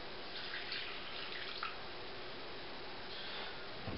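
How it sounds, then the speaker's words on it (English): Milk poured into a milk pan while making Dresdner stollen dough, a soft, close liquid trickle with faint splashes over a steady hiss, fairly quiet throughout. "We pour milk in."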